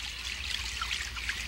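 Water trickles steadily onto garden flowers during watering, a continuous close, soft splashing with a low hiss and no pauses.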